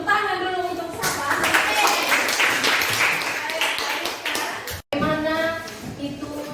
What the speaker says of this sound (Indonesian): Tepuk tangan dulu untuk siapa?